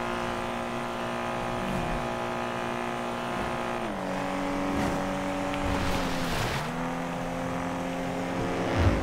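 A Nissan Skyline R34 driven in the GTA RP video game, its engine droning steadily as the pitch climbs and drops through gear shifts, with a sharp dip and recovery near the end, close and continuous with no talk.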